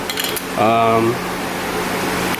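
An electric fan runs in a home garage during engine work, giving a steady, soft whooshing hum throughout, with a brief voice-like tone rising over it near the start.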